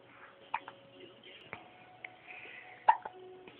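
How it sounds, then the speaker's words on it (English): A baby girl hiccups repeatedly, short sharp catches spaced about a second apart, close and soft, while an adult speaks gently between them. "You got the hiccups, huh?"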